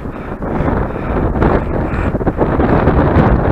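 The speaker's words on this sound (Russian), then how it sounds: "А, ветер усиливается." Strong wind roars and buffets the microphone in loud, uneven gusts on a high hilltop at Tsarev Kurgan near Samara, with no voices.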